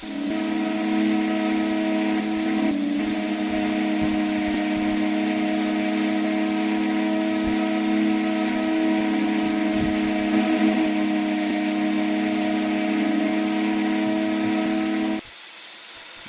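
An American steam whistle in the RO-Scale Sandbox railway game, one long steady multi-tone blast with a hiss underneath, loud and continuous for about fifteen seconds before cutting off abruptly, leaving a softer hiss.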